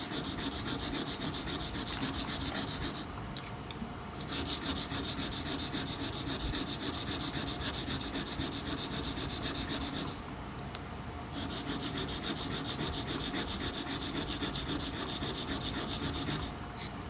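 A woodworking gouge rubbed back and forth on an oiled sharpening stone, a steady close rasping scrape that runs almost without a break, pausing briefly twice.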